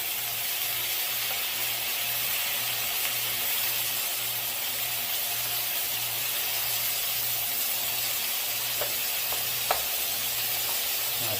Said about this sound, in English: And then get stir frying